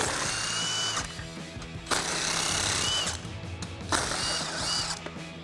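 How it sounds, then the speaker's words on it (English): A power tool fitted with a 15mm socket removes the front bumper bolts on a 2021-2024 Ford Bronco, whirring and rattling loudly in three sustained bursts separated by brief pauses. "So I'll take a 15mm socket. I'm gonna remove the first 2 fully"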